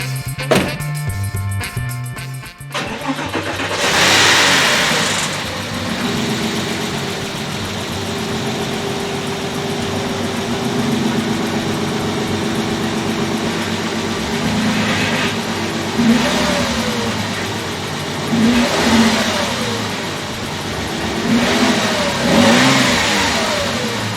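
A car engine cranks, catches and starts after a stripped spark plug thread repair, then idles roughly and revs up several times, loud and close.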